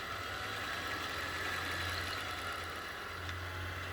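A bench motor runs at a steady, low, even hum, its speed set by a rheostat, with a constant mechanical drone and no breaks or voices.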